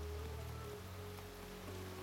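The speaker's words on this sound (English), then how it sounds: "The rain is only getting worse, Apple Bloom." Steady rain falls in a dense, even hiss that continues throughout, with a low hum beneath and no voices.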